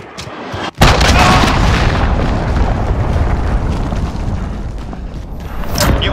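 A cruise missile blast in the Call of Duty: Modern Warfare multiplayer game, a sudden loud boom after a brief lull, then a long roaring rumble of debris and fire that holds steady for several seconds with no talk.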